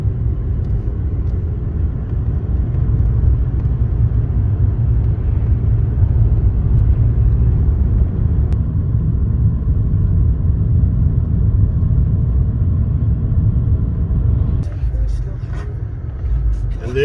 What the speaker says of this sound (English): And the engine started.